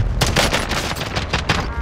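Gunfire in a video game on the Caldera map, a close, loud rapid burst of automatic shots, roughly eight sharp cracks in under two seconds.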